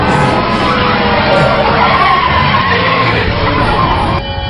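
A car skids hard through a sharp right turn in an action film scene, a loud continuous tire-and-engine roar filling the whole stretch with a faint crowd-like wash underneath.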